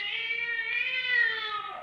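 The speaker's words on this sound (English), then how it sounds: "See, Gray Whiskers is chasing them away. You know, Gray Whiskers is my cat." A cat meows in a radio drama scene where it chases rats, one drawn-out, wavering meow lasting nearly two seconds, loud and close, with no talking over it.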